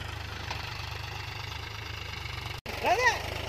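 A diesel tractor engine idles steadily with a low, pulsing chug throughout, briefly cutting out near the end, then a few faint chirpy sounds and a rise in noise as the idle resumes.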